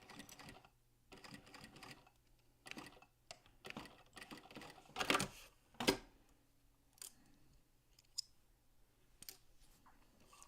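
A sewing machine stitches corner to corner across small trapezoid bag pieces in short, quiet bursts of stitching. Clicks and handling noises fall between and over the bursts.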